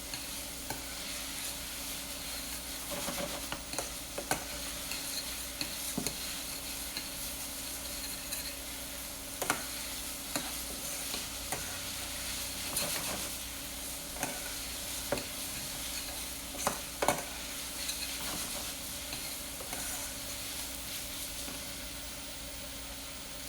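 Vegetables and garlic sweat in a soup pot for senate bean soup, a soft constant sizzle broken by occasional stirring clicks and scrapes, close up and with no one talking.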